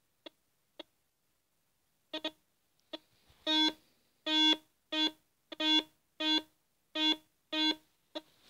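A Solfernus metal detector gives a series of electronic beeps near a coin and iron nail, first short faint blips, then longer, louder regular tones repeating steadily, with no voices.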